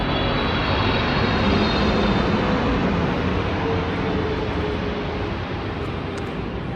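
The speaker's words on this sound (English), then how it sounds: "And we got another plane coming in here." A steady, broad roar of a jet airplane descending overhead to land at Los Angeles International Airport, loud and continuous with no voices.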